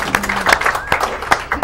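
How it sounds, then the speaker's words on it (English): Audience applause at a local tonight-show style event, brief and close, with sharp individual claps, cheering voices and a whistle-like tone over the crowd. "Give him another round of applause."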